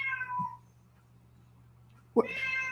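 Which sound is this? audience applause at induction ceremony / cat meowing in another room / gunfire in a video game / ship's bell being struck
cat meowing in another room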